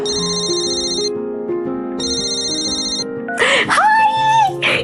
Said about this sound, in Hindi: तभी उसकी दादी का फोन आया